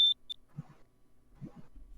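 A smoke alarm in a video game sends out a sharp, high electronic beep and then a second shorter chirp, while faint low murmurs follow in a quiet space.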